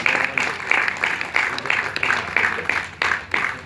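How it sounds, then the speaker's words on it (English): Audience applause at a film festival award ceremony, IFFI 2016: steady, fairly close hand clapping that swells in a loose rhythm of repeated bursts, with no voices over it. "Keep those hands clapping, everyone."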